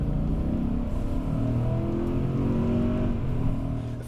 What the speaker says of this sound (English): how nice of a sound gasoline engines like this one used to make